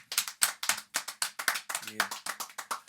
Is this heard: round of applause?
yes